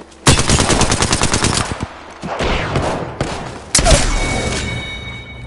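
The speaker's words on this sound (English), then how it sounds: "I'm getting shot at." Rapid automatic gunfire in a first-person shooter on PS4, loud bursts of machine-gun fire with dense repeated cracks, pausing and then resuming with further shots and booms.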